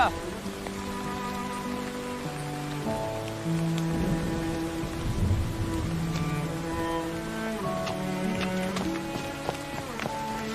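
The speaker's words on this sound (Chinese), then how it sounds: "下雨了" Steady rain falls through an outdoor scene in a period Chinese drama, a soft continuous patter under sustained background music, with some voices present.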